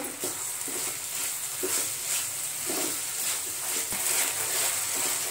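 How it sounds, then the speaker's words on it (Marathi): Paneer fried rice with Schezwan chutney sizzles as it is sautéed in a pan, giving a steady bright hiss with repeated soft scraping and stirring knocks from a spoon, close up and with no talk. "आता हे सर्व आपण परतून घेऊ।"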